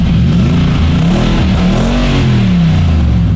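A Nissan Y62 Patrol fitted with a Torqit exhaust revs hard up close, its deep rumbling engine note rising and falling in several loud, sustained pulls with no voices over it.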